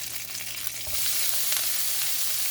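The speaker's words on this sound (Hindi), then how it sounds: "अब हम इसके अंदर ऐड करेंगे जिंजर गार्लिक" Ginger and garlic hit hot oil in a stir fry, giving a loud continuous sizzle and crackle that swells as the pieces are added and stirred, close up with no talking.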